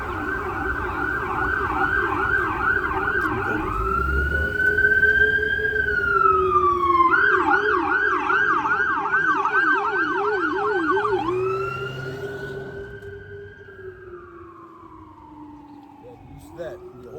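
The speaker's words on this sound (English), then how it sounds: "That be a whole lot of sirens," Loud emergency sirens wail and yelp together, several overlapping tones sweeping up and down continuously before fading somewhat toward the end.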